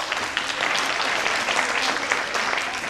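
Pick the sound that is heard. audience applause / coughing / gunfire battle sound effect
audience applause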